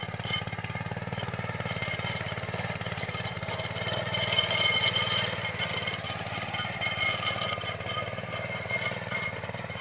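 A Trâu Vàng walking tractor, fitted with an anti-vibration design, runs steadily at close range with a continuous rumbling, chugging engine drone that swells slightly midway, with no talk over it.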